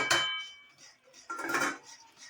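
Flour being stirred into boiling water in a cooking pot for bakri, heard as two bursts of scraping and clinking of a spoon against the metal pot, close and moderately loud, with quiet gaps between.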